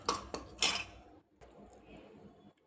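A spoon clinks and scrapes in a bowl, mixing fenugreek and cumin powder for a Telugu-style lemon pickle: a few close metallic taps and scrapes in the first second, then quieter stirring.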